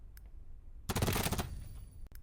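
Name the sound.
MP7 gunfire from a video game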